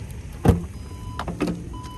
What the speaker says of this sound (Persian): خیلی ایزی در صندوق باز میشه